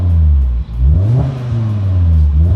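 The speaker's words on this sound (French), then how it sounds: "je vous fais quand même écouter le bruit de l'intérieur." Heard from inside the cabin, a 1000 hp Volkswagen Golf 7R engine revs loud and close, its deep rumble swelling and dipping with a brief drop before rising again.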